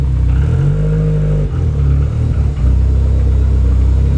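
A Ford Sierra Sapphire RS Cosworth engine rumbles up close as the car is driven in, a loud, steady mid-range drone with small shifts in pitch and a brief dip partway through.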